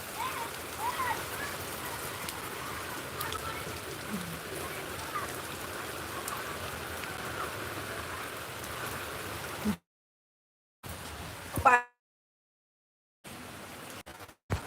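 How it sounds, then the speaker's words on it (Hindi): Heavy rain pours as a continuous wash of hiss, then cuts out abruptly in stretches of silence with brief bursts returning. "मेरे यहाँ बहुत तेज से बारिश हो रही है"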